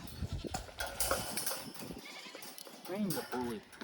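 Goats bleat nearby, a wavering cry near the end, amid shuffling movement and a person talking.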